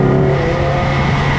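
Steady engine note from a Toyota Yaris fitted with an InGen cold air intake, a loud continuous drone with a strong low hum, heard alone with no talking.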